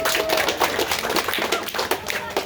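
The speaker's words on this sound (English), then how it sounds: "Let's give the campers a big round of applause." Campers at a summer camp clap together in a short burst of scattered applause, close and lively, with no talk over it.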